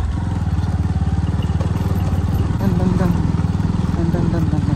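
A motorcycle engine drones steadily up close on a hill ride toward Markham Valley in Meghalaya's West Khasi Hills. The even, throbbing mid-pitched hum runs without a break and swells slightly partway through.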